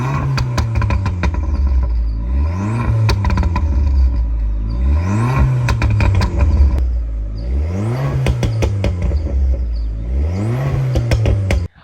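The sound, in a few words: Abarth Punto valvetronic full system exhaust with burbles tune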